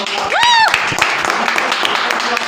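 Loud audience applause at a business presentation swells briefly, topped by a rising whoop or whistle near the start. Dense clapping carries on under overlapping voices.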